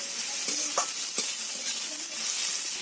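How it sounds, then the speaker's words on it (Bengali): Chopped onion sizzles steadily in hot mustard oil, with a few sharp stirring scrapes and clicks from a spoon against the pan cutting through the constant close frying hiss. "পেঁয়াজটাকে হালকা লাল লাল করে ভেজে নিতে হবে।"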